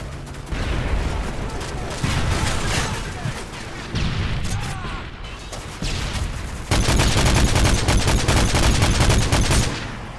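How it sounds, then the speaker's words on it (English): Automated sentry gun firing in Call of Duty Modern Warfare 3 multiplayer, long sustained bursts of rapid gunfire mixed with other game weapon fire and explosions, loud and dense, with game voice callouts heard briefly. "Sentry gun on the way."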